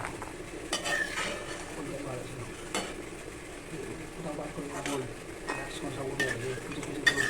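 Kotkoti sweets fry quietly in oil while being stirred, a soft sizzle broken by scraping and clinks of the utensil, with a voice speaking over it.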